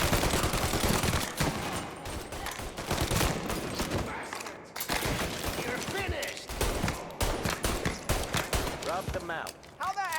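Gunfire in the game Mafia Definitive Edition: dense volleys of shots, loud and close, fill the stretch with only brief gaps, while a voice speaks over parts of the firing.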